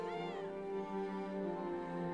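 A cat in the video game Children of Morta gives a long, wavering meow, close and clear over a steady musical background.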